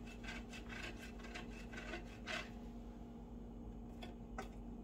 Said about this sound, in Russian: Затем следующий слой у меня идет желток, можно на крупной терке